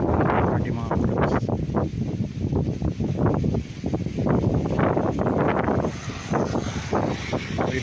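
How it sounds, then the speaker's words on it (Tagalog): Strong wind gusts over an open rice field beside a main road in Victoria, Laguna, buffeting the microphone in loud, continuous rushes while someone talks over it. "Medyo mahangin po"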